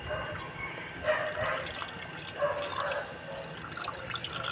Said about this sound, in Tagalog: Itong Peak Performance Radiator natin, super cleaner. Kasi sasaling ko na dito.